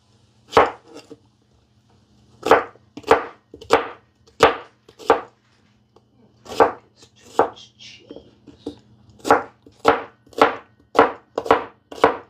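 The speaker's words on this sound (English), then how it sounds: "Let me just cut this onion quick." Kitchen knife chopping an onion on a cutting board, quick bursts of sharp knocks in runs of four or five with short pauses between, close and crisp with a low hum behind.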